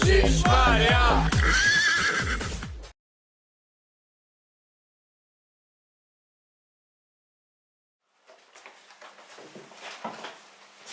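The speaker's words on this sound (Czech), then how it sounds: "jedu na koni" A horse whinnies loudly and close by in a long, wavering neigh that cuts off abruptly, followed by a long silence and then faint, rustling background noise.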